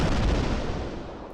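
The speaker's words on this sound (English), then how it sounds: "an explosion cuts him off from specifying the source" A loud explosion in a video game, Meteor World Actor: Badge & Dagger, bursts in and cuts off a phone call, a single heavy boom with a rumbling tail that slowly fades over more than a second.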